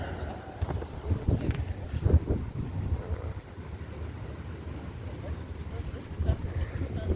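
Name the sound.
strong wind at sea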